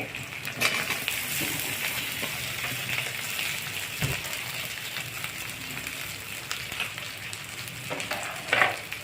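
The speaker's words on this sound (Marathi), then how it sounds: "आता मी बटाटा घालत आहे." Potatoes with curry leaves fry in a pan, a steady broadband sizzle running throughout with a few sharper crackles and spatters, close and continuous with no talking.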